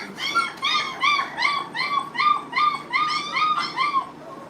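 Four-week-old German shepherd puppies whimper close by in a steady string of high, whining yips, about two per second. They keep this up without pause and no one speaks.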